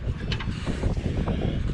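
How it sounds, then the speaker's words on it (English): Gusty wind rumbles across the microphone outdoors beside a drag-racing Dodge Charger, a low steady buffeting roar that swells and dips for under two seconds. "Oh, there's that wind."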